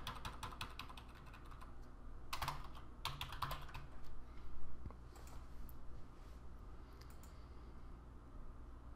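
Quiet typing on a computer keyboard while text is entered into a report field, with clusters of quick key clicks and short pauses between them and no talk.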